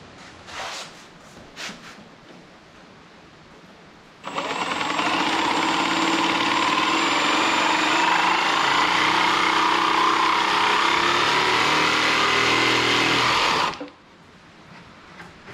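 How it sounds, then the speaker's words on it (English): A jigsaw cuts through a wooden table leg for a folding BBQ prep table, its loud buzzing rattle starting abruptly and holding steady for about nine seconds before cutting off, with quiet taps before and after. "I'll go ahead and cut that with the jigsaw"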